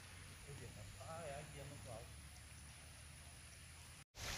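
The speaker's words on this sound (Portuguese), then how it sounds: "E a chuva tá caindo, gente." Rain falls in a forest in the countryside as a steady, fairly soft hiss of drops on leaves, with faint voices under it before a brief cut near the end.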